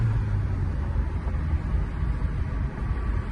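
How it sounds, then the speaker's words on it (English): A 1984 Saab 900 Turbo driving along, its turbocharged engine giving a steady low rumble and broad whooshing road noise inside the cabin, continuous and fairly loud. "Listen to that turbo."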